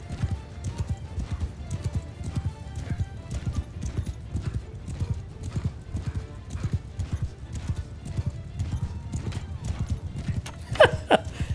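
Horses galloping at steady speed through a battle in Mount & Blade II Bannerlord, with dense rhythmic clip-clop hoofbeats throughout and a brief whinny near the end.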